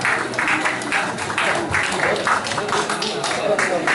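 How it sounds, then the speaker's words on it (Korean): A crowd at a Democratic Party campaign office opening in Gumi claps warmly and continuously, dense and steady, with a voice faintly over the clapping. "다시 한번 뜨거운 박수 부탁드립니다"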